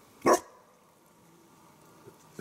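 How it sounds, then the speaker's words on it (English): A pet dog barks once, loud and near, at a pond in a wooded valley, followed by a quiet outdoor background. "My dog's going crazy."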